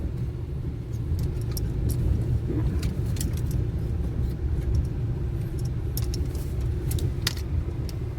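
A car rolls up and parks at a salt pond, a low engine rumble with light clicks and rattles that stays fairly steady, no talking.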